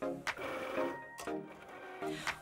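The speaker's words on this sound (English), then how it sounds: "all I have to do is click the little C button, and it's gonna start cutting out my template" Cricut cutting machine cutting a vinyl template, a close mechanical whirring hum from the moving carriage, broken by a few brief clicking shifts at irregular intervals, no speech.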